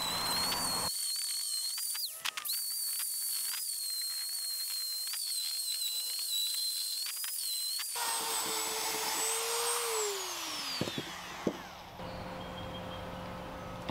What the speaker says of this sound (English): While I've got the Dremel, I'm going to use it to hit a couple of the high spots.